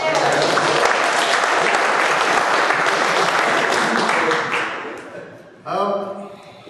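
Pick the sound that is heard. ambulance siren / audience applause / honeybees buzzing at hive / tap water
audience applause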